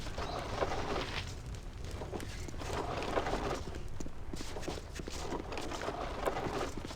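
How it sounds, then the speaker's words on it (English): Soft bird cooing from a pigeon or dove in the Baldur's Gate 2 video game, set over a steady ambient bed with faint clip-clop and footstep-like sounds throughout. "That sounds very much like a bird."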